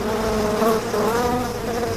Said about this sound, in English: the killer bees had found a new target